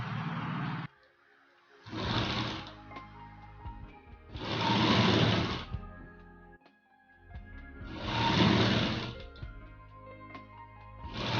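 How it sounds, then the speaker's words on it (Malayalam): A sewing machine stitches the cross piece around the back neck of a nighty in several bursts of rapid whirring, each lasting one to two seconds, with quieter pauses between runs and no voices. "ഇതുപോലെ നല്ല പുറത്ത് ഇതുപോലെ വെച്ച് നമ്മളിതുപോലെ റൗണ്ട് ചെയ്ത് സ്റ്റിച്ച് ചെയ്ത് കൊടുക്കുകയാണ്"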